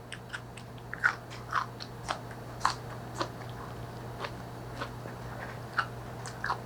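Someone bites and chews green onion kimchi made with radish, producing close, crisp crunches spaced irregularly over several seconds against a quiet, steady hum, with no talking.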